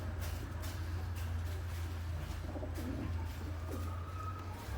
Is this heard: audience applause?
no